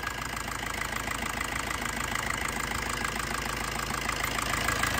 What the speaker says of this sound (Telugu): సింగిల్ సెల్ఫ్లో అయితే బండి స్టార్ట్ అవుతుంది, ఎటువంటి నాయిస్ కానీ ఏం లేదు,